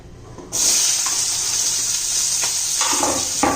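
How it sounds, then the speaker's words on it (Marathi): Sliced onion sizzling in an oil-filled pan for Maharashtrian amti, a steady broadband frying hiss that starts abruptly and holds close and loud, with a few soft stirring knocks near the end. "कांदा परतून घेते मी आता"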